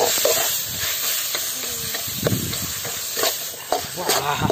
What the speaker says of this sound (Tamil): இப்ப இஞ்சி பூண்டு விழுது நல்லா எண்ணெயிலே வதக்கிடுச்சு.